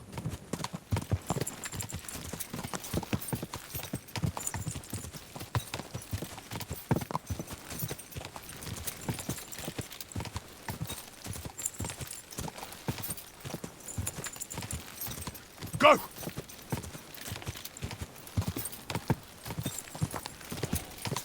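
Horse hooves gallop in a steady, rapid clip-clop rhythm throughout a medieval video game ride in Kingdom Come Deliverance 2, close and continuous with a brief louder moment near the end.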